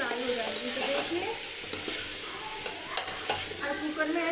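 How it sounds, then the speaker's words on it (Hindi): Potato vegetable being stir-fried dry in a pan, with a steady close sizzle and scraping stir strokes throughout, no voices. "तो ऐसे ही ये फ्राई हो जाएगी"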